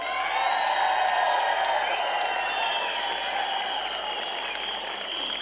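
A large audience at a leadership event honoring the Bharill family breaks into loud, sustained applause, with cheers and whoops rising over the continuous clapping.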